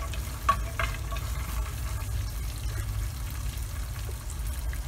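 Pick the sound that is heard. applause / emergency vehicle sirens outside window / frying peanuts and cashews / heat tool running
frying peanuts and cashews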